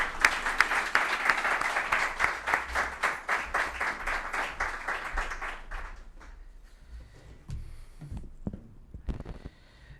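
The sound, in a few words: audience applause welcoming the chairman on stage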